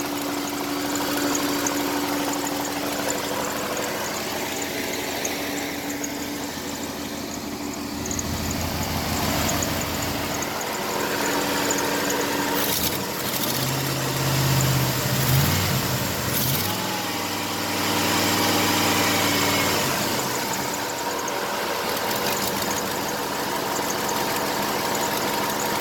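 A GM car engine idles steadily after an oil cooler quick connect repair, a continuous mid-pitched hum with a few louder surges partway through, and no talking.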